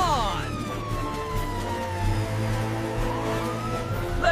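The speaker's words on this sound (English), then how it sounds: "Sirens on." A wailing siren sweeps up and down over a steady vehicle rumble, loud and close, with a brief voice near the end.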